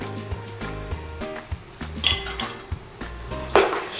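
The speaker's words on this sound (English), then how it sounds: "Stir it all around," A spoon stirs chopped coriander through chicken dopiaza in a metal pot, giving a quick run of clinks and scrapes against the pan, close and fairly loud, with no talk.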